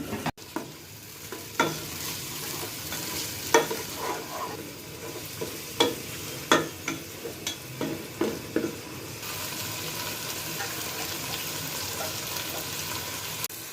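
Cubed tomatoes and a few green chillies fry and get stirred in a pot for beef khichuri, with a steady sizzle under irregular spoon clinks and scrapes, close up, steadier toward the end.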